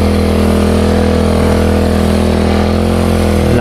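A power sprayer engine runs loud and close in a steady, unbroken drone, its rough mechanical hum holding level throughout with no talk over it.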